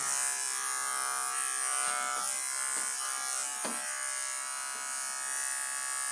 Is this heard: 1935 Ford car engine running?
no